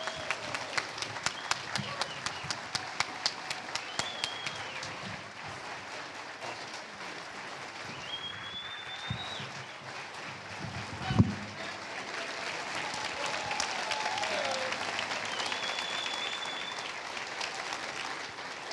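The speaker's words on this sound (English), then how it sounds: "let's give the Senator another big round of applause" A large audience applauds at a town hall with Senator Ted Cruz, a steady, fairly faint wash of clapping that runs the whole length with a few sharper claps near the start.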